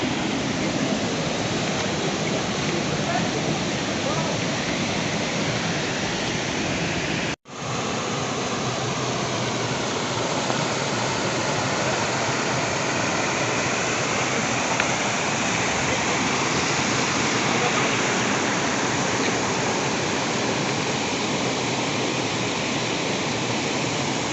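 Steady, loud roar of a waterfall near Theni heard alone and close, a continuous wash of falling water broken only by one instant cut partway through.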